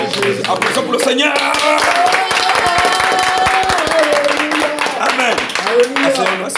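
Congregation clapping rhythmically during a French-language church worship service, steady sharp claps running throughout under loud singing voices.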